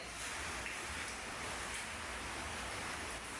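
Rainwater flows and trickles in a steady, soft wash of noise, faint and even, with no voices over it.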